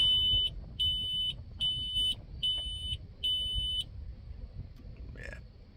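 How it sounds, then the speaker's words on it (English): Display screen in the cab of a CASE Magnum 245 Plus tractor beeping in five steady, evenly spaced electronic tones, loud and clear over a low background rumble, then falling silent. "Not my problem, but screen's beeping."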